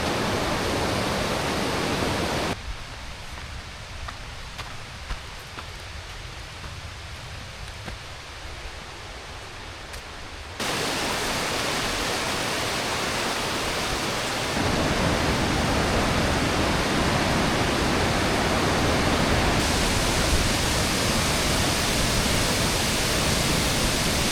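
Yolapa waterfall in Oudomxay, Laos roars as a continuous broadband rush of falling water, loud and unbroken, with its level dipping briefly early on before returning fuller; no one speaks.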